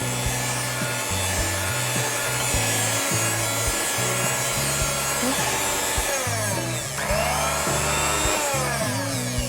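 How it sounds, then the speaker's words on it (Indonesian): Electric hand mixer running on its lowest speed through a rolled lapis legit batter, a steady continuous whir with slight pitch shifts as the beaters move, with no talking. "Ini saya bantu dengan mixer sebentar, speed 1 aja, cuman agak rata aja."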